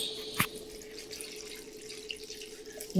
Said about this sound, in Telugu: నీళ్ళు పోస్తున్నా చూడండి